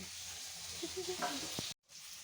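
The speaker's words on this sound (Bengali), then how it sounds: "মা এখন মাছগুলো ভেজে ভেজে নামাচ্ছে" Fish frying in oil in a home kitchen gives a soft, continuous sizzle with faint background voices, then cuts off abruptly near the end.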